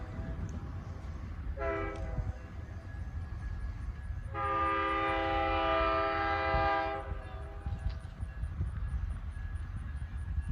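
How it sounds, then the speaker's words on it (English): A heritage train approaches a level crossing in Greensburg, Indiana, giving a short horn blast and then one long sustained chord, moderately distant over outdoor ambience and faint rail rumble. "And here comes the train."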